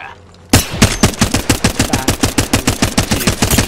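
Rapid automatic gunfire in the battle royale game Apex Legends: a sudden burst of sharp, evenly spaced shots that starts after a brief quiet moment and keeps firing steadily at close range.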